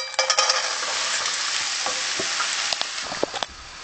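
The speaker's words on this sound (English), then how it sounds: "I'm continuing to stir until the shrimps are cooked" Shrimp sizzling in sesame oil in a hot wok for shrimp fried rice, a loud, bright, continuous hiss punctuated by several clattering stirs of a utensil against the metal.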